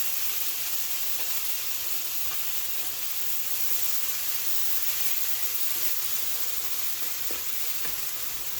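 Hash browns fry on a restaurant-style griddle with a steady, hissing sizzle that holds constant throughout, close and alone without any voices.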